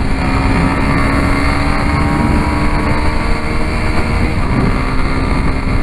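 A steady, loud engine drone from a 2013 Yamaha Fazer 250 Blue Flex motorcycle held at high revs in fourth gear throughout, continuous and close, with no talking over it.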